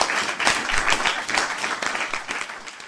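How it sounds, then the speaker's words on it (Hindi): Audience applause after a music performance, dense sustained clapping from a crowd filling the whole stretch with steady, moderately loud texture. "जब इसकी परफॉर्मेंस खत्म होती है सब खुश होकर तालियां बजा रहे हैं"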